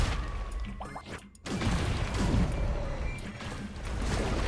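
A charged C skill in the Roblox game Elemental Dungeon builds with a brief swelling whoosh, drops into a short silence, then bursts into a loud crashing blast with rumbling impacts that roll on afterward.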